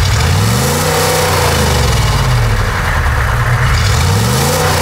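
A Hummer H1 military vehicle engine revs loudly up close, its pitch climbing and falling in a long surge, then rising again in a second rev near the end.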